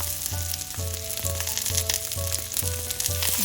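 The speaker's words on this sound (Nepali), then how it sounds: "अब प्यानमा राखेर केही बेर फ्राई गर्छु" Vegetables fry in hot oil in a pan with a continuous crackling sizzle, close and steady, with a recurring low rhythmic thump underneath and no talking.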